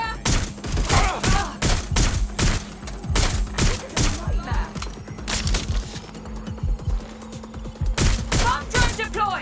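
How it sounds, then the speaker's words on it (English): Video game gunfire in rapid repeated bursts of loud, close shots, falling in a choppy rhythm with brief pauses and a low steady hum beneath. "Gunfire!"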